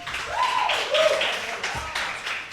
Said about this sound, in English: Another round of applause for Bella.